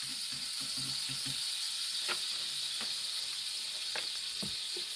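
A grilled cheese sandwich frying in butter in a pan gives a steady, close sizzle and hiss throughout, with a few soft knocks and scrapes of the pan or spatula.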